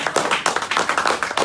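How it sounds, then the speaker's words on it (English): Audience clapping at a gold-backed crypto promotional event, a burst of brisk, uneven hand claps from a nearby crowd, loud and dense with no talk over it. "I know that some of y'all clapping don't even have a clue what you're clapping about."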